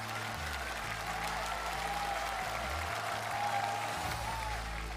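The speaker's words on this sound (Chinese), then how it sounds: "掌声有请卓林战队" A large studio audience at a CCTV variety gala breaks into steady, sustained applause that fills the hall evenly at moderate loudness, with a low musical bed running underneath.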